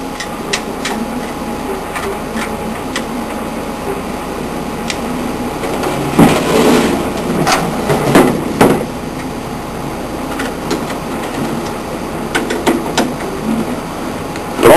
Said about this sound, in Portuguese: Depois que os 4 parafusos já estão no lugar, a gente pode dar o aperto.